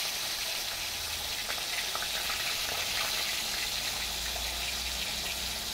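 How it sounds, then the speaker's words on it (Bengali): Hilsa fish pieces frying in hot oil in a wok, giving a steady, close hiss of crackling sizzle that holds throughout with no talking. "এবারে আমি মাছগুলো একটা একটা করে ছেড়ে দেব তেলের মধ্যে।"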